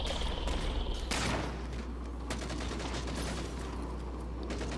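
Rapid gunfire from Halo 4 multiplayer capture-the-flag rattles in dense bursts, loud and continuous with sharp overlapping shots, over a low rumbling game background.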